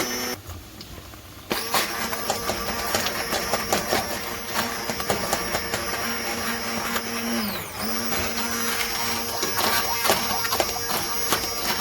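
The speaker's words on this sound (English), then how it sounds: "I'm just going to blend this up really quick" A kitchen blender whirs steadily as it purées stewed tomatoes sweetened with raw sugar into pasta sauce, a loud continuous motor drone starting after a short quiet moment and running to the end.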